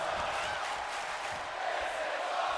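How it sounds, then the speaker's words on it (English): A wrestling arena crowd in WWE 2K24 roars and cheers as a steady, wide wash of noise, moderately loud and distant-sounding, with no clear talk on top. "this crowd has been raucous all night in appreciation of some great in-ring action"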